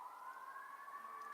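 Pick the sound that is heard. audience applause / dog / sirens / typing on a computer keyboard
sirens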